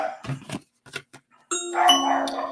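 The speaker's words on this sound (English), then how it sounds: "Oh, and somebody's ringing the doorbell." A two-tone doorbell chime rings out clearly, following a few scattered dog barks and yips.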